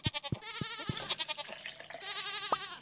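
Goats bleat in the Stardew Valley farming video game: a quick series of short, nasal, wavering bleats, fairly close and clear, repeating in an uneven rhythm with no talking.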